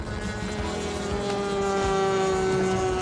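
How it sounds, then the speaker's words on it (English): An 85-inch wingspan model airplane powered by an OS 108 two-stroke engine makes a high-speed flyby, its loud buzzing whine holding close and steady throughout. "Power for this 85-inch wingspan model is the OS 108 two-stroke."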